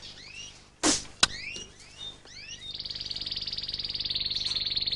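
Birds chirp in the video game Castel Kreuz, with rising tweets and whistles joined by a sharp thump and a click. A steady, pulsing high trill then runs on to the end.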